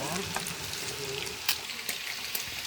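Fish frying in a pan crackles and sizzles steadily up close, with scattered sharper pops and spatters breaking through the continuous hiss.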